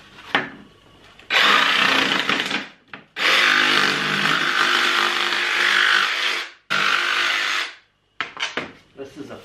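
A power tool trims the corners off material for a homemade freeze-proof chicken waterer. It gives loud, close, sustained grinding bursts that stop and start, with short gaps between the cuts.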